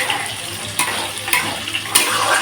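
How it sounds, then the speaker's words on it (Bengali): Fish fries in a pan with chilli powder, giving a steady crackling sizzle broken by a few sharp spatters or stirring scrapes, close and alone. "আর এই যে বন্ধুরা মাছটা ভাজা হচ্ছে"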